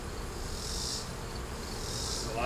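A steady swarm-like buzzing of honey bees, close and continuous, with a higher whining hum that swells twice.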